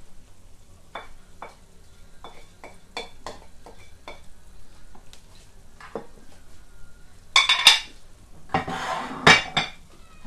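Spices and garlic stirred together in a pan for Iraqi stuffed eggplant filling, with a series of scrapes and light clinks of a utensil against the pan, then louder bursts of scraping and sizzling toward the end, no talk.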